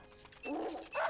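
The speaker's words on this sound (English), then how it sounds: "They barked as they ran back down the road with D4." A couple of short, faint dog barks and yips sound as a story sound effect, brief and slightly distant.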